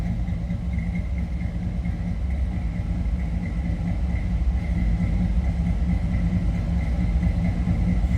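An original 283 V8 in a 1961 Chevrolet Impala two-door hardtop idles with a steady, even low rumble throughout, close and alone with no voices.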